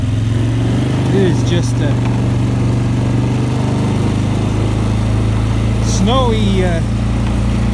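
An ATV engine runs steadily and loudly while riding around a farm in snowy conditions, a constant close drone under someone speaking throughout.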